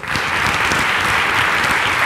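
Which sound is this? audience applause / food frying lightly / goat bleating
audience applause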